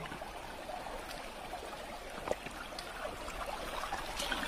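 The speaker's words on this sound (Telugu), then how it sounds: "వాటర్ సౌండ్ మాత్రం చాలా బాగుంది." Water rushes continuously at Tada waterfalls, a steady, fairly quiet broadband wash with small splashes and no voices.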